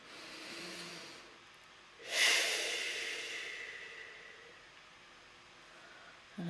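Children in a music class breathe out a long group "shh" imitating waves crashing on the shore, a soft hiss that swells suddenly, then slowly tapers off.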